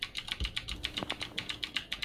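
Computer keyboard keys clatter in quick, fairly regular strokes during a Rainbow Six Siege gaming session, about six or seven clicks per second, close and moderately quiet, with no voices.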